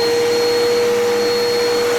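A Bissell Power Force Helix upright vacuum cleaner runs steadily nearby with a constant whining motor hum and airflow rush, and no one speaks.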